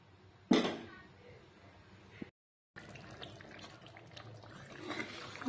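Water is poured into a pot of vegetable curry with beans, potato, eggplant and cauliflower, a brief splashing burst near the start, then a soft ongoing liquid simmer and bubbling at moderate distance.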